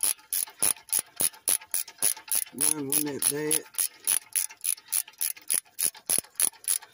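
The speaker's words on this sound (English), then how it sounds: "now I'm using the 18 millimeter short socket and 3/8 ratchet" A 3/8 ratchet turns an 18 mm short socket on the front wheel hub bolts of a Ram 1500, giving a steady series of sharp, close clicking strokes. Someone speaks briefly midway.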